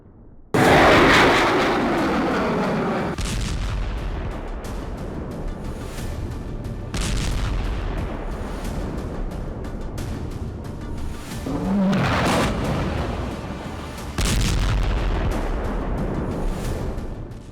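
Heavy bombardment over Gaza: repeated deep booms of artillery fire and explosions, several broad blasts a few seconds apart with a rumbling wash between them, loud and fairly close, no talking.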